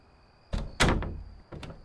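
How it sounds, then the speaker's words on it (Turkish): Doors open and close repeatedly during a night shift at a Japanese convenience store in a video game, with several sharp thunks and a slam in quick succession, close and clear. "Sürekli kapı açılıp kapanma sesi."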